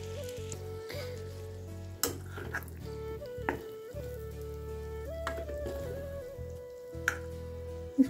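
Ghee melts and sizzles in a pot while being stirred from the bottom, a steady close crackle and hiss broken by occasional scraping knocks of the spoon.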